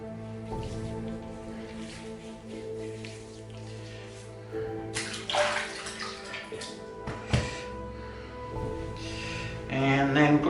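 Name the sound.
water splashing while re-wetting the face for shaving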